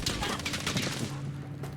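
A Sten submachine gun fires in Battlefield 5, a rapid burst of gunfire with rattling reports and battle noise that thins out toward the end.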